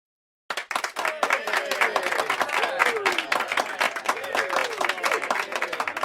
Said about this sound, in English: The pilots clapped and cheered.